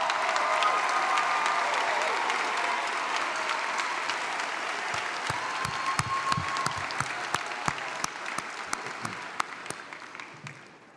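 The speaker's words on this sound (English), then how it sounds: "Will the grandparents of our candidates please stand and receive our applause?" Audience applause at a Lamar University College of Arts and Sciences commencement in December 2015: a large crowd claps steadily and loudly for about eleven seconds, with individual claps becoming more distinct as the ovation thins toward the end.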